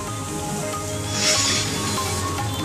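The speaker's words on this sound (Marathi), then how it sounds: "मध्यरात्री अचानक पाऊस झाला." Heavy unseasonal rain falling at midnight, a steady, dense hiss of downpour that continues unbroken from start to end with no voices.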